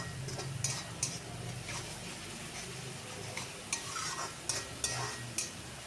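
Masala is stirred and sautéed in a pan as oil separates, a faint continuous sizzle broken by periodic spoon scrapes and light metallic taps against the pan, no voices.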